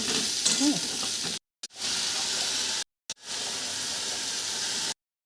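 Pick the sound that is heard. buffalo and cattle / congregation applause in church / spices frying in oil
spices frying in oil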